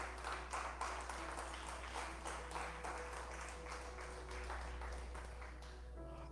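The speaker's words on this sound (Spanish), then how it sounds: "¿Cuántos le pueden dar palmas al Señor?" A church congregation claps for the Lord during a sermon, a steady, fairly faint wash of many hands over several seconds under a low constant hum, with no speech over it.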